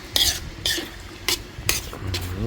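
A spoon stirs boiling curry in a frying pan, giving about five short scraping clinks at an uneven pace against a soft bubbling simmer, close and moderately loud.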